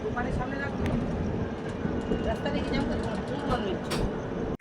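A train heading from Howrah to Haridwar rumbles steadily, heard from a seat inside by the window, with a continuous loud broadband rattle and a few sharp clanks.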